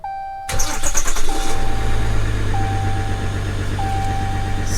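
A Ram 1500 EcoDiesel with a blown engine cranks and fires up after a chime, then settles into a loud, steady diesel idle close by while a tone beeps periodically.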